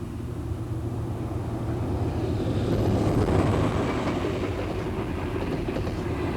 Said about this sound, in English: It arrives just before a regular northbound express passes.